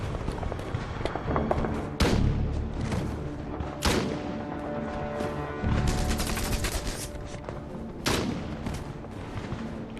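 Repeated loud bursts of sniper gunfire from a castle crack out at irregular intervals, a few seconds apart, over a dense, rumbling background of World War II battle noise.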